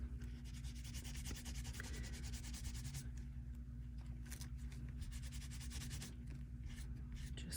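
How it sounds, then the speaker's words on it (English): A clean lint-free wipe rubs over manicured nails with quick, faint, rhythmic scrubbing strokes that repeat steadily at close range and without speech. "Just give everything a rub with a clean lint-free wipe."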